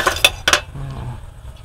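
Dishes and a cup rattle and clink as they are handled in a home dish rack, with two sharp bursts of ceramic and metal knocks close by, then softer shuffling.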